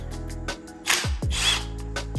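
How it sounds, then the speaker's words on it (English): A power drill removing a bolt on a Hyundai Kona N whirs in several short bursts, close by, with brief pauses between and a louder sustained run near the middle. "Use this drill for this."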